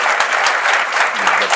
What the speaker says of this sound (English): So I'd like a round of applause for our panelists.